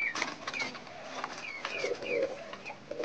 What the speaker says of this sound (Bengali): তো এখন সব কবুতরগুলা খাওয়া দাওয়া করছে